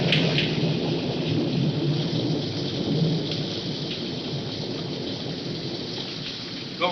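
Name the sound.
rain and thunder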